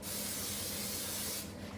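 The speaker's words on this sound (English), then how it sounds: "We're going to spray it with cooking spray." Cooking spray hisses onto a bowl for bread dough in one steady, close, loud burst lasting most of the moment before stopping abruptly, with no talking.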